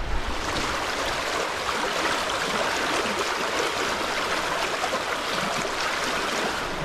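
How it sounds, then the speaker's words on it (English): The fast-flowing River Derwent in the Lake District rushes steadily nearby, a loud, continuous broadband roar of churning water with no voices. "Just next to us here is the River Derwent."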